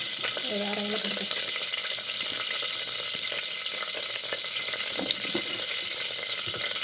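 Cloves and bay leaf fry in hot oil for a vegetable kurma, giving a steady crackling sizzle throughout, with a short tonal sound near the start.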